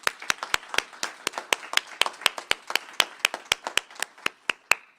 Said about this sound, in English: Please join me in giving one more round of applause to our new president-elect, Mr. Cheng.